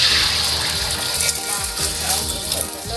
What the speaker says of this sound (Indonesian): Setelah minyak panas kemudian goreng telur.